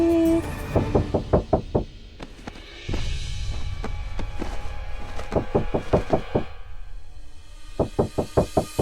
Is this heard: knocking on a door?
yes